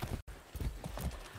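Horse hooves clip-clopping in a quick, close rhythm for a brief moment in the video game Far Cry 6, with a short break near the start.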